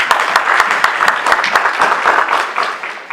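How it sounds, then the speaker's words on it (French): A church congregation claps steadily together during a Sunday service, the dense applause holding at an even level throughout. "Nous pouvons acclamer pour le Seigneur."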